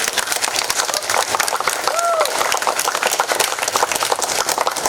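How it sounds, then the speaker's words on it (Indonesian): Crowd clapping at a maritime vocational school graduation ceremony, steady, fairly loud applause with a brief tonal squeal from a sound system in the middle. "Tepuk tangan dulu."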